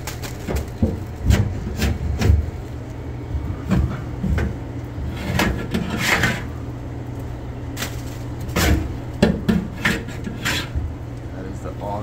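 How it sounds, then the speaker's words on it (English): Metal scraper dragged through thick grease in a clogged restaurant hood grease trough, a series of close scraping strokes and knocks, loud and irregular over a steady background hum. "That is the all new cover scraper."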